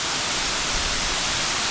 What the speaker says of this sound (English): You see how that's all falling on those rocks and causing all kinds of other waterfalls?